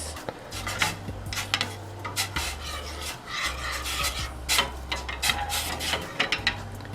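Lime peel rasped on a zester over tea, giving close repeated scraping strokes in short bursts alongside light clinks and a low steady hum underneath.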